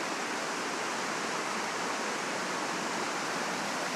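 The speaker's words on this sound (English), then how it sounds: "That water's still huge, but nowhere near what it was before." Flood water rushes down a swollen stream in Hickory, North Carolina, a loud, steady broadband roar with no breaks, close and alone without any voices.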